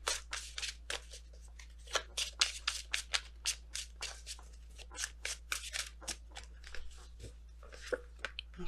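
Tarot cards are shuffled and handled in a run of crisp, irregular flicks and riffles, quiet and close, with short pauses between bursts and no talking.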